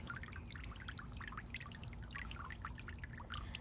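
A quiet bird bath fountain in a garden trickles water steadily, with soft, continuous pouring and dripping, low and even throughout.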